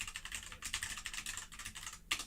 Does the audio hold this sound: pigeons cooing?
no